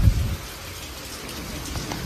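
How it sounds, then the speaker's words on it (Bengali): Rain falling as a heavy downpour eases, a steady close patter with a brief low rumble at the start. "জোরে বৃষ্টিটা কমলো।"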